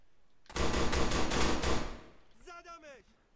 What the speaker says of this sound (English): So see, he shot me there.